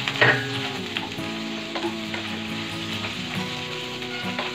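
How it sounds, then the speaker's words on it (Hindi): Onion pieces frying in a hot pan give a steady, fairly quiet sizzle that starts with a brief louder hiss as they drop in, then settles into even crackling with a few soft stirring knocks, with no speech. "अब इसमें ऐड कर रही हूँ ऑनियन।"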